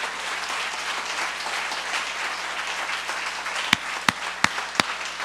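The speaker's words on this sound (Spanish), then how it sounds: "Démosle un aplauso a nuestro Señor en esta mañana" A Sunday morning church congregation applauds the Lord with a steady wash of applause from the room. Near the end, several sharp, loud claps or knocks ring out separately above it.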